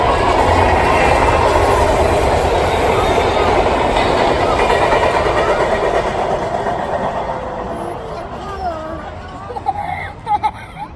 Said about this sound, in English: the Chamblee switcher, P51, departed southbound toward Inman Yard